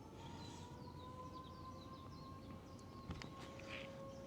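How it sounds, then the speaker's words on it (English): A distant noon lunch siren drones steadily over low background rumble, a long sustained tone that holds level throughout. "12 o'clock lunch siren"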